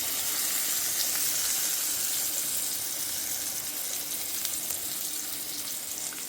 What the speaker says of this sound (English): Now we're going to add our salmon to our pot.